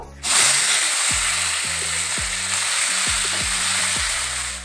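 Cucumber pieces hit hot oil with fennel seeds and burst into a loud, sudden sizzle that carries on as a steady close frying hiss, with a series of low, falling tonal sweeps repeating underneath.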